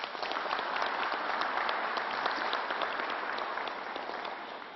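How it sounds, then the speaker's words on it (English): Steady, full applause from an audience at a COVID update press event for a mayor and county executive, loud and unbroken for nearly five seconds with no voices over it. "Let's give them another round of applause"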